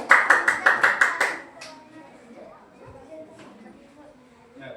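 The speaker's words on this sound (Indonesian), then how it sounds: "Berikan tepuk tangan." A classroom of students claps in unison about seven times in a quick, even rhythm before a group goes up to present on food chains. After the claps, quiet murmuring and low voices are heard.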